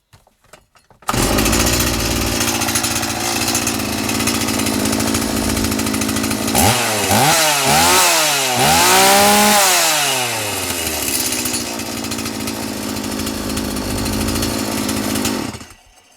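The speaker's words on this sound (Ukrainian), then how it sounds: "Пила фактично готова. Зараз заведу, ще раз прожену, прогрію нормально." A repaired chainsaw is started and left running to warm up, a loud continuous engine drone with a few quick revving swells partway through before it cuts off, no talk over it.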